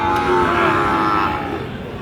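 Sahiwal bull calves at a traditional cattle market in Nawabganj, Dinajpur, give a loud, close low moo with harmonic bands, heard over continuous market crowd noise and faint voices.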